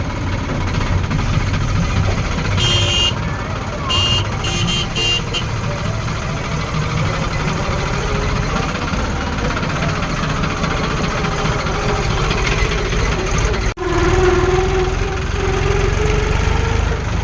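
A tractor engine runs continuously and loudly nearby, a steady rumbling drone with a short sharp break near the end and some faint high clicks early on.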